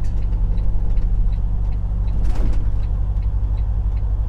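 A bus rolls along a Mojave Desert road near old Route 66, its loud, steady engine drone and road rumble continuous and close, with a brief hiss or swell midway.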